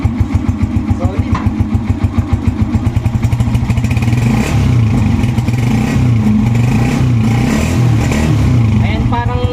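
Honda TMX 125 motorcycle engine with its fuel tank removed, running on the fuel left in the carburetor: a loud, close, rapid thumping idle that wavers unevenly as it starves of gas.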